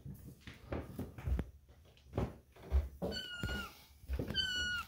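Cats meow softly a few times, with short rising cries near the end. They are mixed with faint thumps and household shuffling, quiet and slightly distant.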